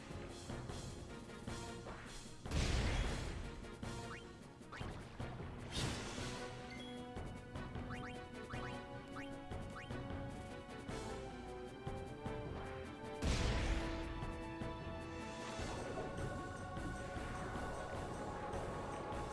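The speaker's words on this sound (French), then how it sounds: "Lance une grenade." A grenade is thrown in the Final Fantasy X video game battle, giving a couple of heavy crashing bursts over steady game music and ambience, with no talking.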